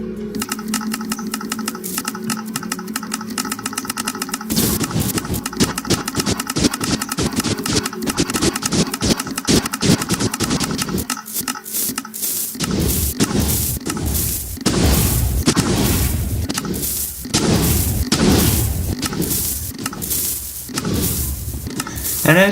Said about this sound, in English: we can give the cannon its first test.